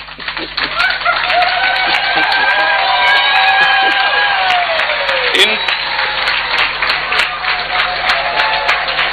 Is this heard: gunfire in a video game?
no